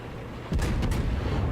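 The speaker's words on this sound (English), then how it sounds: "Guns are opening up." Warship guns fire in World of Warships: a sudden heavy booming salvo breaks in mid-clip with two sharp cracks, leaving a dense rumbling roar that lasts to the end.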